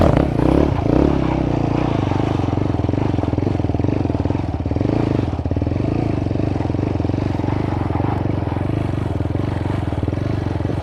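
A TVS Apache 200 RTR 4V motorcycle circling on flat ground during a stunt session, its engine humming steadily with a brief rev early on and faint scraping clatter throughout.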